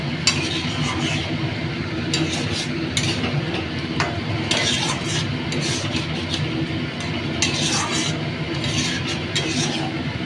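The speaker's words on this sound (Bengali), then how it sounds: "এটা ফুটছে আর এটা মশলাটা কষানো হচ্ছে" Spiced curry bubbling and boiling while masala paste is stirred and sautéed in a pan, a steady close sizzle and simmer with repeated scraping and stirring strokes throughout, no talking.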